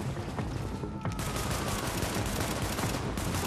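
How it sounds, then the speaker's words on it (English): Dense, continuous gunfire in the co-op shooter Tom Clancy's The Division, rapid overlapping shots forming a loud sustained barrage with no pause. "I feel like I'm the only one shooting."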